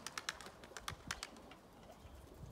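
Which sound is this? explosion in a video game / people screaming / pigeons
pigeons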